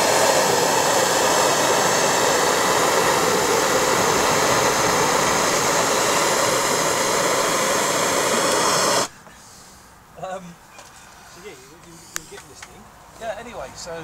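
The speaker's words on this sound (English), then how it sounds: "Soldering with AJ and his blowtorch." A blowtorch flame roars loud and steady for about nine seconds during soldering, then cuts off abruptly, leaving a quiet room with faint clicks and a few soft sounds.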